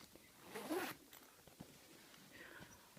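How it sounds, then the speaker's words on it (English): A single zipper is pulled open in one quick, close rasping stroke, followed by quiet rustling and light handling noises. "So, we've got a big zipper on the front."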